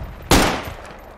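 Grenade detonation in the military shooter Project Reality: one sudden loud blast whose rumbling tail fades over about a second, with no talking.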